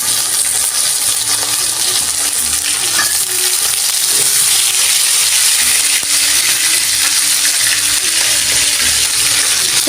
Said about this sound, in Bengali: এখন কাঁচামরিচগুলো দিয়ে দিলাম।